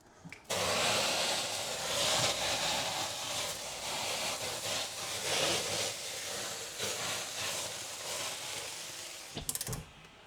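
Steam hisses loudly and steadily into a 240-degree oven holding sourdough loaves for about nine seconds. The hiss rises and falls slightly, then cuts off with a few clicks.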